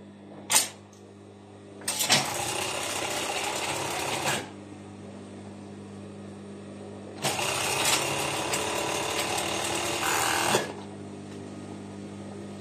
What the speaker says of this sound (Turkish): Ön ağımı dikiyorum.